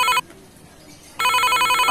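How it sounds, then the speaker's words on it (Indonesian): A telephone rings in two loud electronic bursts separated by a short pause of near silence. "ada telepon nih dari temen, penting"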